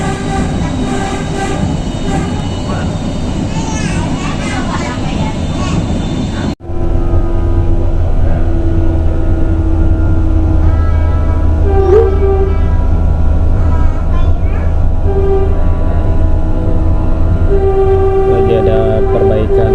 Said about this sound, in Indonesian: Kereta Lembah Hantai ini kereta berjenis rel bus.